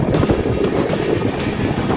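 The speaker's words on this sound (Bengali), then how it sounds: "আর আমাদের ট্রেন এখন আগ্রা ক্যান্ট স্টেশনে প্রবেশ করতে চলেছে।" A train running on rails as it approaches Agra Cantt station, a loud continuous rumble with rhythmic clattering and faint wind noise throughout.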